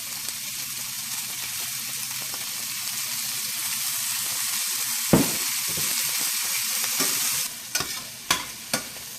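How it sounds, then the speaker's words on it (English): Onions and carrots sautéing in oil in a pan for spicy hoisin meatballs, a continuous close sizzle with stirring scrapes and a few sharp utensil knocks near the end. "I've got my vegetables sauteed up here"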